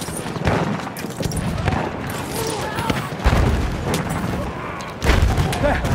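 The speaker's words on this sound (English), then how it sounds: "Enemy machine gun." Heavy gunfire and booming blasts in a war video game, with dense bursts of machine gun fire and louder impacts around the middle and near the end, over a voice speaking.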